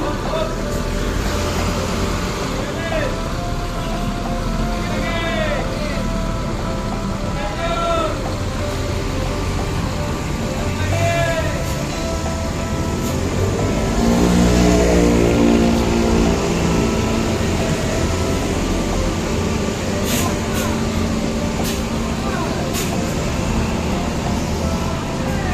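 A Jetbus 5 coach engine idles and revs at close range as the bus maneuvers slowly into a parking spot, a steady low rumble with hissing air brakes and other engine noise, while a voice talks over it.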